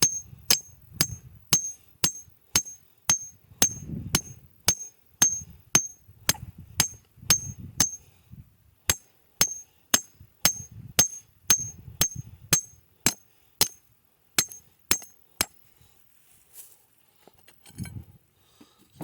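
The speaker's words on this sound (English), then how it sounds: "Take my hammer and kind of tap it down in there." A hammer taps a trap stake down into a hole in tough soil, giving a long run of sharp, evenly spaced metallic strikes up close, with brief low thuds between some blows and a pause near the end.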